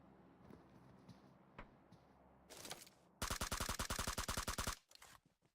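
Gunfire in a PUBG Mobile scrimmage match: a few isolated shots, then a loud, rapid automatic burst of evenly spaced cracks lasting over a second, followed by a couple of trailing shots, with no talking.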